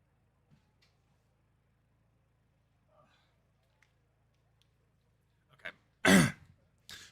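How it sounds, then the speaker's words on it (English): Near silence, then a single loud, close throat-clearing cough bursts out, followed by a faint short rasp. "I'm just like coughing."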